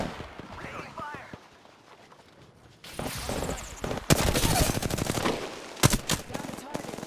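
Automatic weapon fire in Apex Legends crackles in bursts over the second half, with sharp loud shots near the end, mixed with in-game voice callouts and other game sounds.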